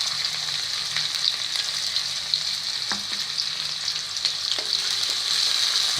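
Onions, cumin seeds and red chilli frying in hot oil for an okra curry, a steady close sizzle with a few stirring clinks and scrapes, no talking.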